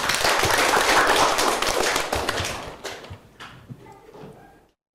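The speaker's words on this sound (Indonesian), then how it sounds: "Ya, tepuk tangan dulu." Classroom applause from students, a dense burst of clapping that starts loud and full, then thins out into scattered claps and fades away over several seconds.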